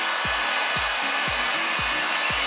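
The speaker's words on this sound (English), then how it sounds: "Just got my heat gun." A heat gun blows steadily and loudly at close range while warming headlight tint film, a continuous rushing whoosh with a few faint low thuds repeating underneath and no talk.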